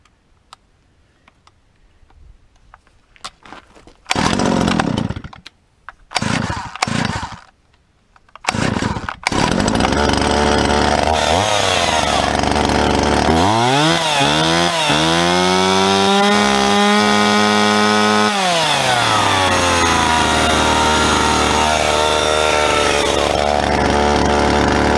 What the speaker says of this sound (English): Put some gas in it. Alright, just put some fuel in it. Let's fire this thing up.